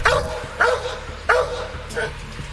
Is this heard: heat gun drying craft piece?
no